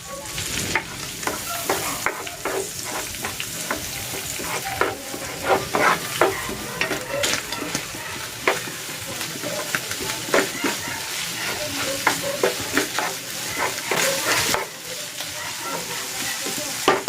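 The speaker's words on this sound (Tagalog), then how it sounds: "Maglalagay na ako ng butter. Igigisa ko na dito itong sibuyas." Onions sautéing in butter in a pan, a close sizzle broken by frequent sharp scraping and stirring clacks of a utensil, with no voice over the cooking.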